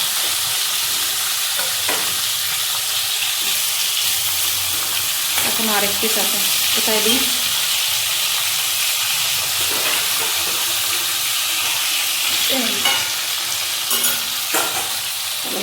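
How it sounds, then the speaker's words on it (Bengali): Koi fish frying in hot oil give a steady, loud sizzle with a spatula stirring and scraping now and then, while a person speaks briefly over the cooking. "এই কই মাছ ভেজে নেব এবার"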